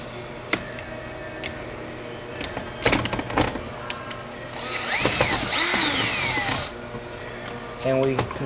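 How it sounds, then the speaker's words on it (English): Power drill driving screws into a door hardware back plate during installation of a DETEX ECL-230D exit device, heard as short whirring bursts and a longer steady whine, close and loud, with some handling clatter around them. "And we conclude by installing our 4 screws."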